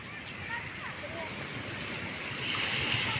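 Sea waves washing onto the shore at a beach resort in Ilihan, Batangas City, a steady soft surf with wind noise on the microphone, swelling a little louder toward the end.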